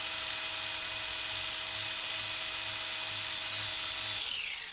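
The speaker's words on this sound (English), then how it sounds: "we're gonna touch the end of this ever so slightly to remove a little bit of material" A power tool grinds the end of a transmission part from an AOD gearbox fitted with 4R70 internals, taking off a little material. It gives a steady, close, high whine with a faint low pulsing and winds down at the end.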